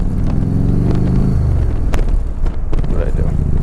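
A 20-year-old Harley-Davidson motorcycle engine runs loud and close, a deep continuous rumble whose pitch climbs under throttle, then drops and settles after a gear change.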